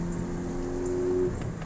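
A Ford Focus ST with a newly replaced transmission drives along, its engine giving a steady low hum with faint tonal whine that eases near the end, close and continuous with no talking.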